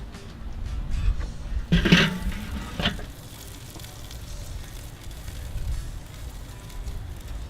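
Burger patties sizzle on a griddle set over a Weber kettle grill, a steady close crackle broken by a few louder clanks and scrapes around two to three seconds in, then settling into even frying noise.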